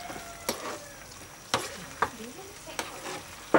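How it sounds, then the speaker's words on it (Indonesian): Tofu and seafood being stirred in a frying pan for Japanese sapo tahu, with a steady sizzle underneath and several sharp utensil scrapes and clacks against the pan at irregular intervals, close and fairly quiet. "Oke, kita aduk."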